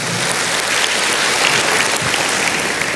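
Dense, loud applause from a church congregation during a worship service, a continuous roar of many clapping hands filling the room with no break.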